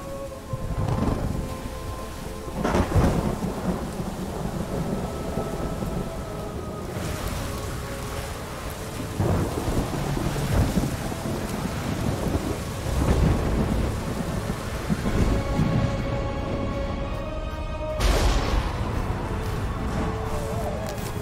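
Thunderstorm with steady rain in the video game Ori and the Will of the Wisps: constant rain hiss with several loud thunder cracks and rolling rumbles spread throughout, with a game melody faintly underneath.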